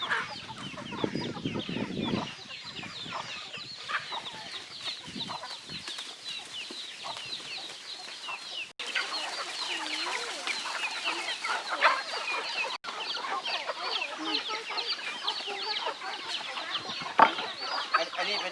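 Chickens at a Thai temple farm cluck and squawk continuously in a busy flock, many birds overlapping at close range with occasional sharper calls, and no talk over them.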